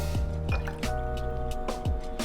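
Excess water is tipped out of a plant container, giving a few distinct drips and small splashes over a steady tonal background, with no talking.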